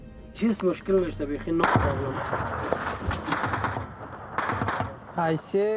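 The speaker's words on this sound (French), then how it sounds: "Les tirs talibans sont permanents." Taliban gunfire in Afghanistan crackles as sharp, irregular reports through the clip, mixed with loud, close shouting and talk that nearly overlaps the shots.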